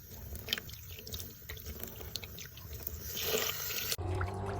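Tap water runs steadily while milkfish (bangus) is rinsed and washed at a sink, a continuous close splashing stream with small clatters, ending in a brief thump and a quieter tail.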